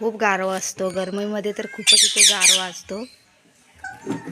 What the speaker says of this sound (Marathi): पोपट ओरडते